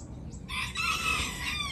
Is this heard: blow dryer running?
no